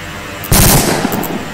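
Gunfire from a machine gun in a multiplayer shooter video game, a sharp burst starting abruptly and continuing as dense rattling shots, loud and close, with no talk.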